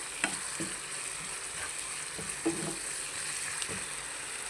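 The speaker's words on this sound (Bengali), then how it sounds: "কাঁচামরিচ আর পেঁয়াজ দিয়ে ভালোভাবে পেঁয়াজটা খুব সুন্দর করে মজিয়ে নেব।" Onions and green chillies fry in a pan with a steady, even sizzle and a few soft stirring scrapes, close up and without talk.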